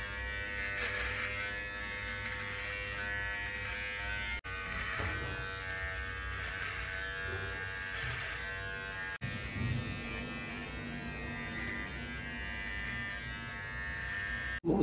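A two-speed electric hair trimmer with a 3 mm comb runs continuously, a steady close motor buzz that shifts slightly in pitch as it moves through hair, with brief clicks but no talking.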